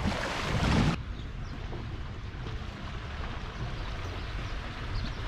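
Sea waves wash onto the shore at Cefalù, Sicily, as a steady rushing surf mixed with wind buffeting the microphone. A louder gust marks the first second, then the wash continues evenly with no voices.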